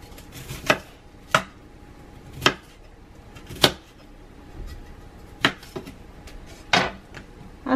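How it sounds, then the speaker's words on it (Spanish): A knife chops through broccoli on a cutting board in sharp, separate strikes, about ten over several seconds at an uneven pace, close and clear. "lo primero que vamos a empezar a picar va a ser nuestro brócoli"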